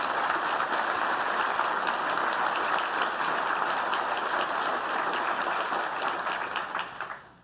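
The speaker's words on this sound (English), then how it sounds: "can we get a huge round of applause for the EF team?" A conference audience applauds a development team in a broad, steady wash of clapping that stays full and loud for about six seconds, then thins and fades out near the end.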